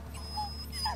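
A dog whimpers in the video game Blair Witch, a couple of short high whines over a low steady background hum.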